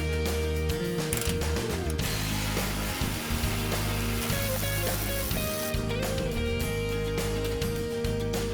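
A ratchet wrench turning and loosening the muffler bolt on a Ford F-150 exhaust, with rapid mechanical clicking running steadily through the clip at close range.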